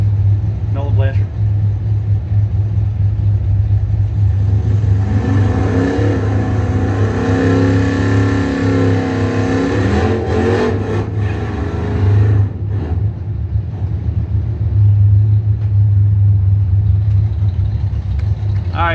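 A loud, close race car engine in the pits at the Bowtie Challenge race event idles with a deep rumble and revs up in surges through the middle, while muffled voices sound in the background.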